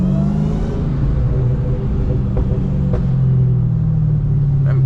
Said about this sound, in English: Them pop sounds nice on the cat.